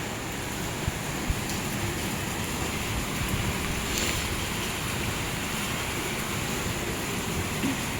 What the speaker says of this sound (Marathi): ह्या स्पीडने असाच पाऊस सुरू आहे 2 दिवसांपासून